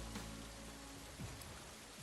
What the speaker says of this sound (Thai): ฝนได้เทลงมา